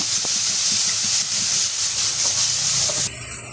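Spice paste of turmeric, chilli, salt and ginger-garlic paste frying in a pan in a Bangladeshi village kitchen, a loud continuous hiss and sizzle with faint scraping underneath, dropping off sharply near the end.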